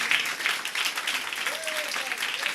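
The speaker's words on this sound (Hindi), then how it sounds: "यीशु मसीह के लिए जोरदार तालियां बजाएं।" A church congregation breaks into a burst of applause during a Hindi sermon, dense clapping that swells and holds at moderate volume, with a voice faintly audible beneath.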